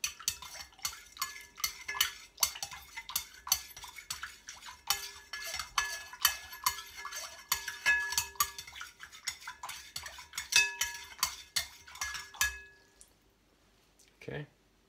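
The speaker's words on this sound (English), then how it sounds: "We'll give it a quick stir." Magnesium sulfate is stirred into homebrew water with a utensil, a series of close, quick scraping and clinking strokes against the container for about twelve seconds before stopping, followed by a brief knock.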